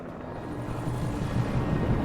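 A distant helicopter in the video game Alan Wake drones with a low, steady rotor rumble, faint and continuous with no other sounds.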